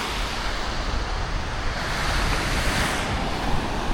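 Ocean surf at Coogee Beach in Sydney on a calm morning, a steady close wash of breaking waves and rushing water mixed with wind noise, with no voices over it.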